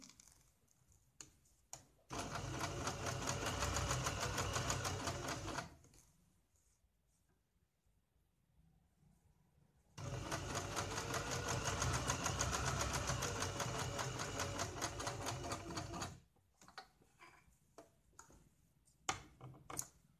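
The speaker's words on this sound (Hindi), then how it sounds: "यहाँ पे हम सिलाई लगाते हैं" A sewing machine stitches a folded fabric strip in two long continuous runs of rapid mechanical whirring, with a quiet pause between them and scattered clicks and handling sounds before and after.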